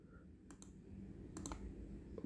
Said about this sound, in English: Press U on keyboard